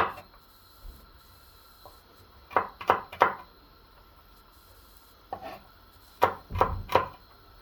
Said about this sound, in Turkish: sarımsaklarımızı küçük küçük doğruyoruz